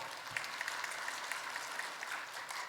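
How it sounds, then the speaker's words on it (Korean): A church congregation claps during a sermon, a brief burst of scattered, fairly faint applause from a crowd in the hall, with no talking. "제가 설교하면서 박수 받아보긴 처음입니다."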